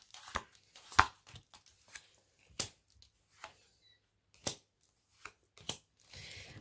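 Tarot cards being handled and stacked into piles, with sharp, irregular slaps, taps and shuffles spaced across quiet pauses, close and fairly soft.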